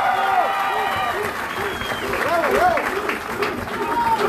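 Festival crowd applauding at a solo contest in Sonzacate, steady dense clapping throughout with cheering voices and warbling whistles or shouts riding on top, loud and close.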